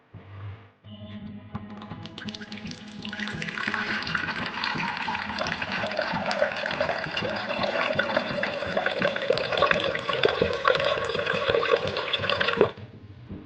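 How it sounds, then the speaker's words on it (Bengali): Mixed lentils for dal being rinsed in water in a kitchen, a steady running and splashing wash that builds after a brief start and continues loudly before stopping abruptly near the end. "এরপর ডালটা ভালো করে ধুয়ে নিতে হবে, একদম পরিষ্কার করে ধুয়ে নিচ্ছি।"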